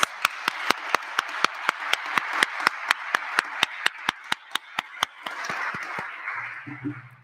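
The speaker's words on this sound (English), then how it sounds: "can we give them a round of applause for all these folks?" An audience applauds the funders, starting with sharp, evenly spaced claps in a quick regular beat, then breaking into a looser, continuous wash of applause near the end.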